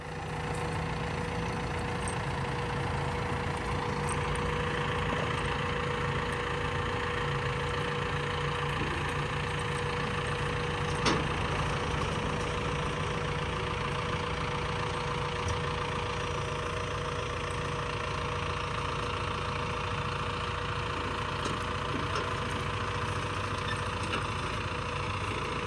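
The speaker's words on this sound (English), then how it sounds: "So now we got to get the tractor off the trailer and drive it over to the field and put it in the gate." A tractor engine idles in a steady, continuous low rumble, close and unchanging throughout, with no voices over it.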